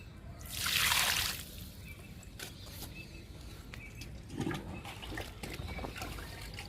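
Kitchen-waste liquid fertilizer poured onto gongura plants in a garden: one short gush of liquid splashing onto leaves and soil, then quiet with faint trickles and small clicks.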